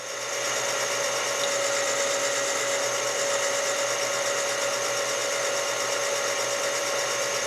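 Case trimmer cutting a .308 brass cartridge case during rifle reloading, a steady high-pitched motor whine that holds for about seven seconds, close and constant.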